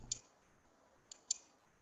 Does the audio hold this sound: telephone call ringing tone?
no